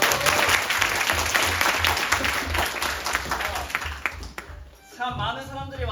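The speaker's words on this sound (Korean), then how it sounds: "모두 박수로 환영해주면 좋겠구만." Audience applause fills a student theater performance, a dense burst of many hands clapping that fades out toward the end, followed by a voice speaking.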